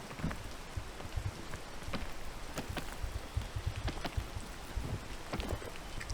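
Steady rainfall in the video game PEAK, a dense hiss broken by frequent crisp drop impacts and low patters, even and continuous without talk.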